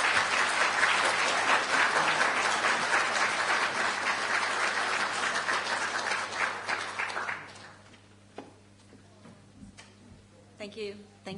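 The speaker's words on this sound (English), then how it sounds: "Please give her a huge round of applause for Professor Mary Gallagher." A large conference audience at a global affairs opening session gives a full round of applause for Professor Mary Gallagher, dense steady clapping for about seven seconds that then thins out to scattered claps and faint room noise.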